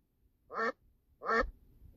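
Two separate loud, nasal quacks from a wild duck, evenly spaced about a second apart against near silence.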